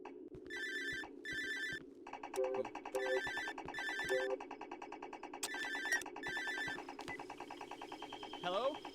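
Telephone ringing in the Cry of Fear video game, an old-style electronic ring repeating in short bursts over a steady hum, with someone talking over it.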